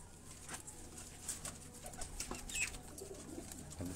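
Flying pigeons kept on a rooftop in Jalalpur Bhattian, Pakistan, coo and chirp in scattered short calls across several seconds, fairly faint over steady background noise, with possible brief wing flutter and no talk.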